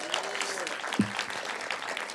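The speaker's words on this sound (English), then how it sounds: "give yourselves a round of applause" Graduates at a graduation ceremony applaud in a steady patter of clapping, with a brief voice cutting in partway through.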